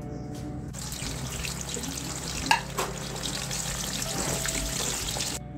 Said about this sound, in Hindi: सबसे पहले बैंगन को फ्राई करेंगे।